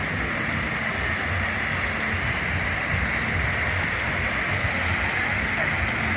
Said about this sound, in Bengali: পানি উঠছে